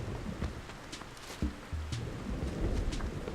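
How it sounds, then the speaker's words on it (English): Rain falling steadily in the Animal Crossing video game, with broadband patter throughout and a couple of low thunder rumbles rolling in near the middle. "Gotta admit, I like the lightning sound effects."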